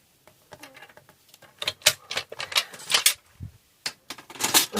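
Close, crisp scraping and clicking as a blade slides through paper in several quick passes, with short pauses between strokes.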